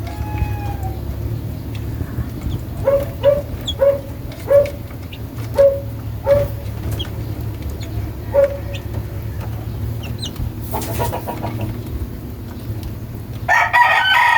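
Chickens on a farm crow and cluck in a series of clear, repeated calls near the microphone, with a steady low hum underneath and a brief rustle toward the end.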